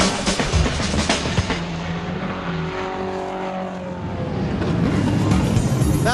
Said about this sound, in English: That's the sound of all the cars lining up on the grid as they've done their first lap